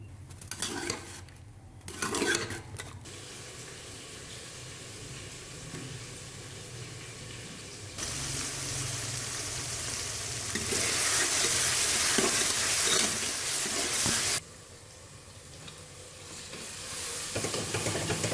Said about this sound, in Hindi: अब इसको चूल्हे पे रखने लगी हूँ, इसको भूनने लगी हूँ।